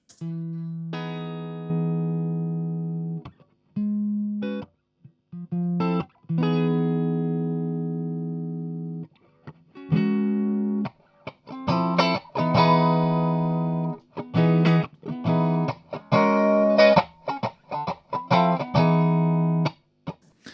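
A music track blended with a soup can microphone, a boxy, mid-range lo-fi sound with clipped, distorted tones, first sustained notes with gaps, then a busier stretch of rapid choppy bursts, no talking.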